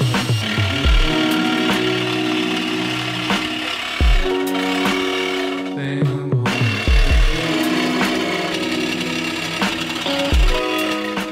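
A jigsaw with a heavy-duty blade chatters steadily through metal, loud and close, with brief pauses and strained changes in pitch as the blade bites.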